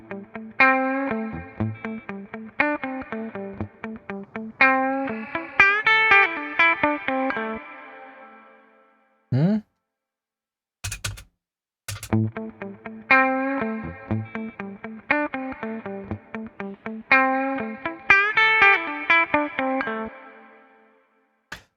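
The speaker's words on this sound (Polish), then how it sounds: "On po prostu skraca tą odległość tej jak wirtualnej takiej ściany, od której dźwięk nam się odbija." A heavily effected synth or instrument phrase passed through a reverb set with a shortened virtual wall distance, so the repeated bright, distorted, chorused notes carry tight, close reflections, then pause briefly with a couple of sharp glitchy bursts before the phrase returns.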